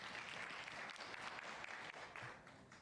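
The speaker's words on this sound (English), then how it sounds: "Clap, clap, clap." An audience at a business talk about remote management in Japan applauds, a steady wash of many hands clapping at moderate distance, fading slightly near the end.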